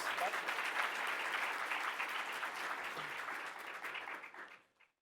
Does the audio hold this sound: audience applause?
yes